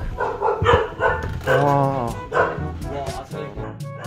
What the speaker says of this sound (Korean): 지금 이 건물 안에도 이제 강아지들이 있나 봐요.